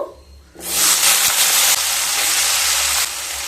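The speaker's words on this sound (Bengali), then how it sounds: "কেটে রাখা দুটো মিডিয়াম সাইজের আলু দিয়ে দেব" Two medium-sized cut potatoes dropped into hot oil with black cumin: a quiet start, then a sudden loud sizzle that holds as a steady, bright hiss and eases slightly near the end.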